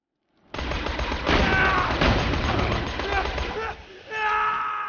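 Gunfire and a grenade blast in the video game Borderlands 2 come as a dense, loud, sustained barrage of shots and bursts, close up. A short lull follows, then a fresh burst with ringing tones.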